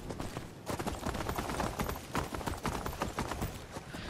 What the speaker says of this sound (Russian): мы поедем на лошадях, чтобы все это дело было побыстрее